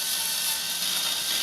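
Ratchet driver fitted with a Torx bit backing out screws along a dishwasher door edge, a steady close buzzing clicking of the pawl running throughout with no talking.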